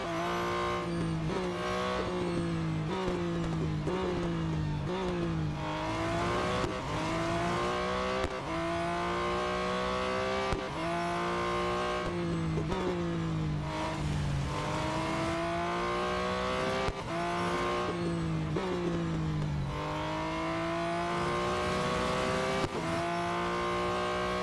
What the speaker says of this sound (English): I think I will do quick races for the Ferrari